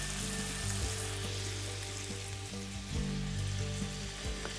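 Salmon fillets pan-searing for a keto recipe, a steady close sizzle and hiss of fat in the hot pan with occasional soft pops, continuous and unbroken by any voice.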